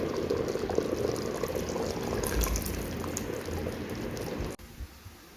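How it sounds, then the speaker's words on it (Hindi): Reserved oil is poured back into a pot of cooking mutton nihari, giving a steady low bubbling and sizzling hiss up close that stops abruptly near the end. "अब हम वो ऑयल जो हमने निहारी का उतारा था वो ऐड करते हैं।"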